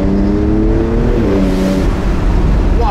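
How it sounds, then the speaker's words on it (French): Porsche 992 Turbo S twin-turbo engine running hard, a steady loud engine drone with rising harmonic tones, then a brief airy hiss from the wastegates as the throttle lifts near the end. "On entend au lever de pied la décharge des turbos, les wastegate"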